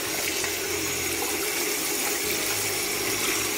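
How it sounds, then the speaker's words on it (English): Water poured steadily onto a potted bird of paradise plant to soak the soil, a continuous loud gushing splash that fills the whole moment with no talking. "this is how I water the bird, but I just make sure it's completely soaked"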